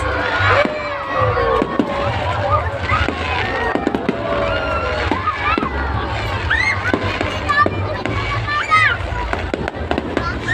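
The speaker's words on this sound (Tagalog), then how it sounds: "Doon yung fireworks." New Year's fireworks in Puerto Princesa, Philippines, booming and crackling continuously amid a noisy outdoor crowd, with shouting and children's voices mixed in throughout.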